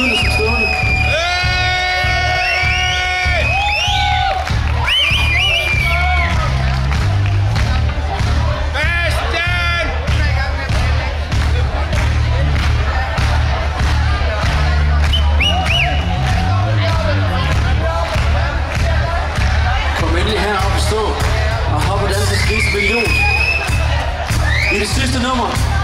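A concert crowd at an open-air show in Nytorv, Viborg, Denmark, cheers, whoops and shouts loudly and continuously, close around with yelling and babble throughout.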